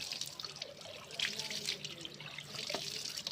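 Water is sprayed and splashed over a sport motorcycle's chain during cleaning, giving a steady hissing trickle with scattered drips and spatters, close by and continuous.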